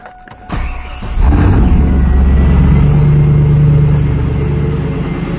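A car engine starts and settles into a steady loud idle close by, with a low continuous drone and a brief click before it catches.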